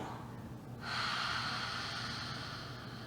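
A deep, slow exhale during a youth yoga breathing exercise, a soft airy breath that swells about a second in and then fades gradually over the next two seconds, heard alone.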